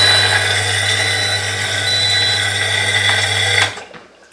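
Washing machine switched on and faulting, giving a loud steady mechanical whir with a strong low hum and bright rattling overtones for several seconds before cutting out abruptly.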